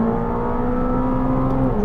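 A McLaren 765LT on a race track, heard from inside the car as a loud, sustained, steady engine whine and drone held for a couple of seconds at high revs.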